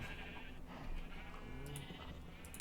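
Sheep bleat in Minecraft while a player lays out a sheep pen on a survival server, a few soft bleats over dense, steady game sound.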